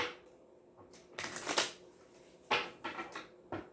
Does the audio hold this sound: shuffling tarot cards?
yes